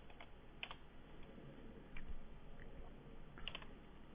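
Quiet, close typing on a computer keyboard while writing Objective-C code, in a soft, irregular run of key clicks with short pauses between them.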